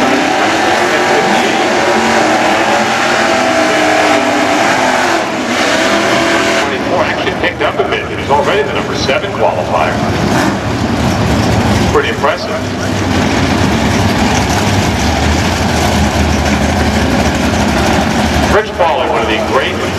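Loud drag racing engines of C-stock automatic Ford cars roar and rev continuously close by at the 2001 Summit Nationals, with a steady mechanical drone, while a voice talks over the noise.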